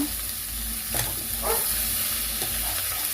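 Bitter gourd frying in oil in a pan for a palya, a steady close sizzle with a few spatula stirs and scrapes.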